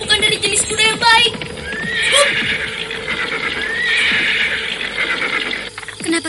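A horse neighs in a long, loud whinny close by, with hoof clip-clops and a few spoken words around it.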